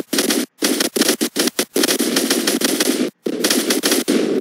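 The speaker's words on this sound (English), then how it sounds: "I don't know what he's shooting at." Rapid automatic gunfire from the Fortnite battle royale game, loud close bursts of fast shots broken by short silent gaps, rattling on almost continuously.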